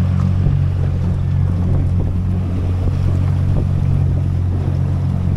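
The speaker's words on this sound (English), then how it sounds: "Busy little port, Newcastle. Ships and boats coming and going all the time." Boat engines in Newcastle port give a steady, loud low drone mixed with wind buffeting, continuous and close throughout.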